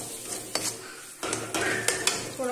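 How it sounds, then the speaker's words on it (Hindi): Coriander frying in a pan with spices while being stirred, giving soft sizzling and repeated scraping and clinks of a spoon against the pan, close and moderately loud with no talking. "जब तक धनिया इसमें थोड़ा सा मसाले में भून जाए"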